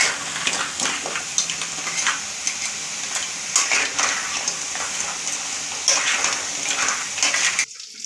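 Crab curry ingredients fry in a pan with a loud, constant crackling sizzle, broken by stirring scrapes and splashy bursts throughout. The sizzle cuts off abruptly near the end, with no voices.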